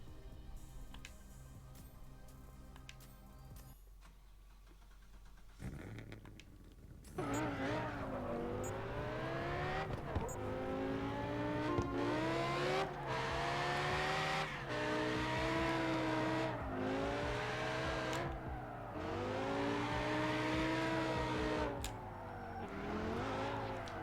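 A BMW car engine in a racing video game, revving and accelerating in long repeated surges with rising pitch and some tire squeal, loud and continuous after a quieter opening.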